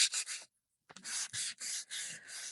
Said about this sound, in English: I'm going to grab my little sander. And I'm going to scuff this surface up